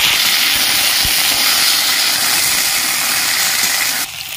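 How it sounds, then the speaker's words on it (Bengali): Potatoes and gati kochu (taro) sizzle loudly in hot oil in a kadai, a steady close hiss and crackle that holds throughout and dips slightly at the end. "কড়াইয়ের তেল গরম হয়ে গেছে, ধুয়ে রাখা আলু আর গাটি কচু আমি ভেজে নিচ্ছি।"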